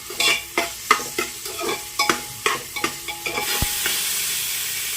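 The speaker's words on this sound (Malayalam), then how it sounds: "ഒരു സവാള നീളത്തിൽ അരിഞ്ഞത് ഇട്ട് കൊടുക്കാം എന്നിട്ട് ഒരു അര ടീസ്പൂൺ ഉപ്പും കൂടെ ഇട്ട് കൊടുത്തിട്ട് സവാള ഒന്ന് വഴറ്റിയെടുക്കാം" Sliced onion and salt sauté in a pressure cooker with a steady sizzle, broken by about a dozen quick, close stirring scrapes in an uneven rhythm before the frying settles into a continuous hiss.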